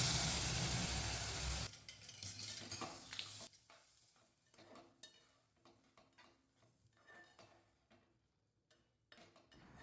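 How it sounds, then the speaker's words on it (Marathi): Fried dry fruits stirred into jaggery-sweetened carrot halwa in a pan, a loud sizzle at first giving way to soft, intermittent scraping and clinking of a spoon against the pan. "फ्राय केलेले ड्रायफ्रूट्स गाजराच्या हलव्यामध्ये मिक्स करूयात."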